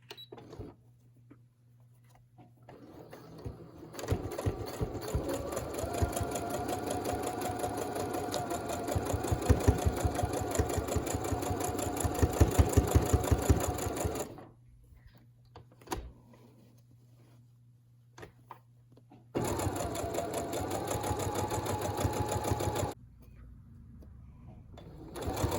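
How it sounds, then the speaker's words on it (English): A sewing machine stitches a fabric mask in a steady fast rattle for about ten seconds, pauses, then runs again briefly, close up with quiet handling in the gaps. "I'm going to sew right over these pins because they're very, very small."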